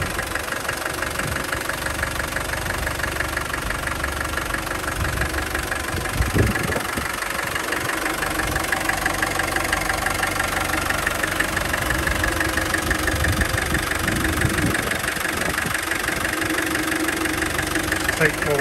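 A restored 1988 Land Rover Defender 110 soft top with a 200TDi diesel engine idling, a steady clattering rumble with a slight knock, close and continuous, with occasional bumps and handling noises over it.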